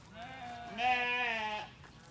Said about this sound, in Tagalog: So yan po ang ating mga tupa.